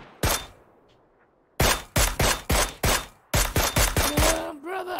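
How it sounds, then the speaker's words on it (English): Video game gunfire in a firefight: a single loud shot, a pause, then a rapid series of sharp bursts and more shots, with brief tonal game sounds at the end. "Who the hell's shooting at you?"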